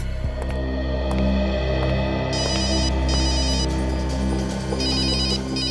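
Telephone bell ringing in repeated bursts over a steady background hum and music, fairly close and loud, in a police-office scene from a CID crime drama.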